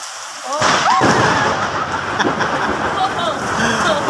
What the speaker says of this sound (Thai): บอกแล้วมาทั้งฟ้าทั้งฝนทั้งลม